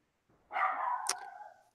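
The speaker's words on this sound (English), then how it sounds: "I got dog barking in the background." A dog barks faintly in the distance, one drawn-out bark or yelp with a short sharp accent partway through, heard alone and quietly behind an otherwise silent room.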